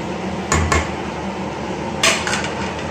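Carrots drop into a pot of Filipino sopas soup with a few sharp clattering knocks against the pot, two quick ones, then another pair later, loud and close over a steady background.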